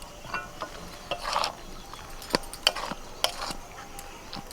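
Sweet and sour jujube pickle gets stirred in a pot after fresh lemon juice is added, producing soft wet scraping and sticky squelches with a few sharp clinks, faint and close.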